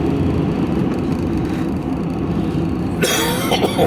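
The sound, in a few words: dry cough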